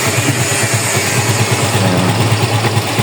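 A motorcycle engine idles with strong vibration, a fault the owner links to a dirty side clutch and pulley assembly. It makes a close, loud, throbbing low pulse that repeats rapidly and evenly, with no voices.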